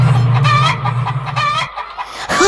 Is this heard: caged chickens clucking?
yes